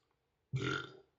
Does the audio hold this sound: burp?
yes